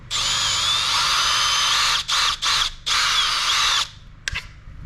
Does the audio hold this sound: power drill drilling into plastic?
yes